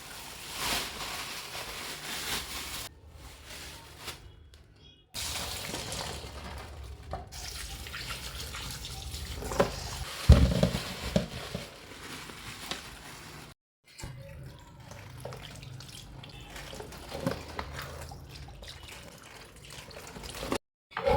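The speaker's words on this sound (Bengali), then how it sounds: "চলো মাছগুলো তাহলে এবারে ধুয়ে নিই।" Fish, including hilsa heads, are rinsed under a running tap in a kitchen sink: close water gushing in several stretches broken by brief pauses, with splashes and the clatter of handling.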